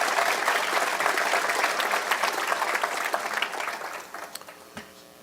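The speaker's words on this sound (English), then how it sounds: "let's all give her a round of applause for all she's given" Audience at a participants' meeting of a memory and aging research project applauding, dense sustained clapping from a crowd that gradually thins out into a few scattered claps.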